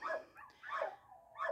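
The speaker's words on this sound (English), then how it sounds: "My dogs see me out on the porch, and then they're barking because they hear the neighbor's dogs as well." Dogs bark from a porch in the countryside, with neighboring dogs joining in: three rough barks spaced about half a second apart, moderately near and clear with no talk.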